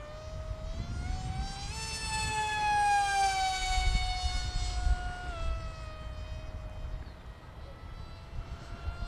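A Hobby King Bonsai 600mm RC flying wing on a 4S battery screams past at high speed, its whining motor tone rising and falling in pitch as it makes a fast pass against the wind, loud and sustained.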